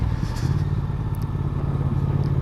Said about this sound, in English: I'm in sort of second gear at the speed limit.